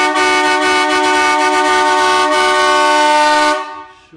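A dual marine air horn fitted to a Chevrolet Corsa blasts in one loud, sustained chord for about three and a half seconds, then cuts off abruptly.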